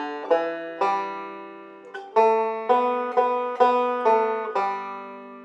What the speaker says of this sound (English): the way that's going to come out on the banjo sounds like this